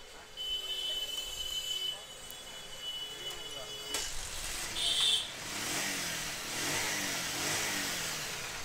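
A Bajaj Pulsar motorcycle, just repaired for a starting problem and an oil leak, is kicked over. Its engine catches partway through and settles into a steady, close running drone after a quieter stretch of background noise.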